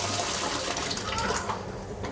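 Tap water pours from a leaking washing machine inlet adapter into a vessel, giving a steady, close broadband rush of flowing water with no break.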